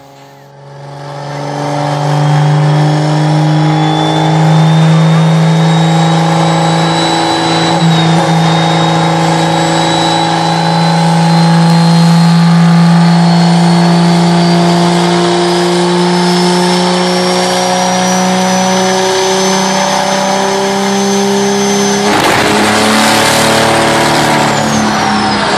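A Dodge diesel engine revs hard and holds near full throttle, its droning tone climbing slowly and steadily, before a sudden harsh burst near the end. It is loud and close, with no talking.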